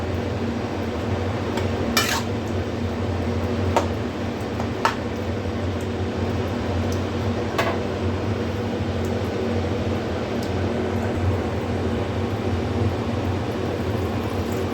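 Soyabean chow mein being stirred in a pan: a steady, close frying hiss with a few sharp utensil scrapes and knocks against the pan, continuous throughout.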